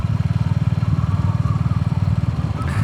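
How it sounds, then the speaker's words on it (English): A Royal Enfield Meteor 350, a roughly 20-horsepower single-cylinder cruiser, being ridden: a loud, close, steady low thumping exhaust pulse throughout, with no talk over it. "I'm really happy to ride my Meteor 350 again"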